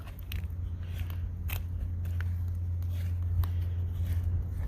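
Tops Tracker No.4 knife push-cutting curls from wood, several crisp scraping cuts over a steady low hum, close and fairly quiet, with no talking.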